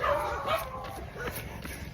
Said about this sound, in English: All these dogs, man, fucking actually chasing me down the road.